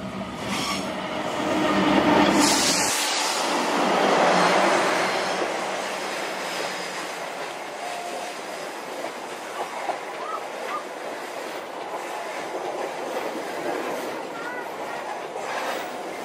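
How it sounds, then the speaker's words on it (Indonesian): The KA Cikurai passenger train pulls into Cicalengka station, a loud rumbling approach that eases into a steady rolling hum with faint wheel clicks and squeals as it slows alongside the platform. "Itu dia KA Cikurai merapat stasiun Cicalengka ya."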